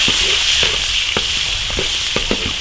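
Ginger, scallion, onion and prawns stir-frying in a hot iron wok, a loud continuous sizzle broken by sharp scraping clacks of the spatula tossing the food, with no voices.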